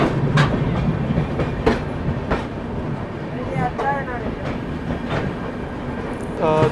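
The AP Express (Andhra Pradesh Express), hauled by a Lallaguda shed WAP-7 electric locomotive, rumbles past on the rails at a station with rhythmic clickety-clack of wheels over joints and occasional squeals, loud and close, with a voice talking underneath.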